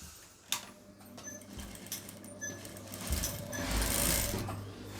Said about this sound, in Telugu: ఇప్పుడు నేను నెక్ సైడ్ అలాగే రౌండ్ మొత్తం ఒకేసారి స్టిచ్ అనేది వేసుకునేస్తాను